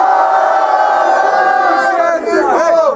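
A rap battle crowd roaring, a dense wall of shouting and cheering voices, loud and close, sustained throughout with a rising whoop near the end.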